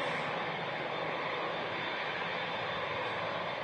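Two propeller aircraft engines run at Manchester Airport with a constant, even drone. The dense, unbroken roar holds at moderate distance throughout, with no voices over it.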